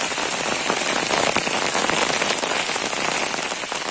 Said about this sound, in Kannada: ಭಾರಿ ಜೋರು ಮಳೆ ನೀರು